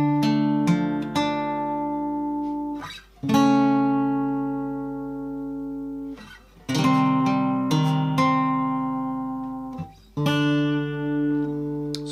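Solo guitar plays the middle eight of a song from The Last of Us Part II, a sequence of plucked, ringing chords and notes with clear attacks and long sustain, close and unaccompanied.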